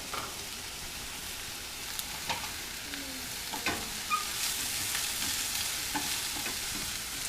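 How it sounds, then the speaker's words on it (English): Onions and bacon bits frying in fat in a pan, a steady close sizzle with intermittent stirring clicks and scrapes throughout, no talking. "Let those cook down a little bit. Throw in a little bit more fat for our bacon bits."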